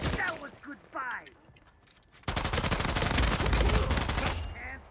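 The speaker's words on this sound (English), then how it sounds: "Micro has a pretty good rate of fire." Rapid automatic fire from the Micro weapon in an Uncharted 4 multiplayer match, a loud continuous burst running for several seconds after a spoken line and scattered game effects.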